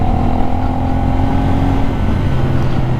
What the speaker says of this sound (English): In a low RPM, there is a little jerkiness in the throttle.